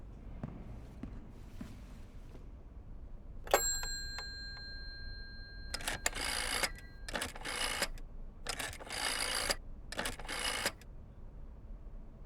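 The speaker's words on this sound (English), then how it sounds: "Might as well make some good use of the phone while I'm here." A telephone in Layers of Fear is handled and dialed, with a sharp ring-like electronic tone followed by several bursts of clicking and rattling rotary or button sounds, spaced out and fairly close, with no talking.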